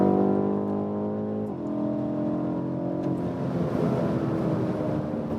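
A BMW M850i coupé in Sport Plus mode drives with a loud, steady engine drone that shifts to a lower, rougher note about halfway through as the throttle changes, with no voices over it.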